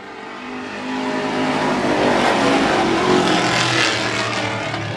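Race cars roar around Wiscasset Speedway, a loud continuous engine drone that swells as the pack passes close by, dense and unbroken throughout with no talk.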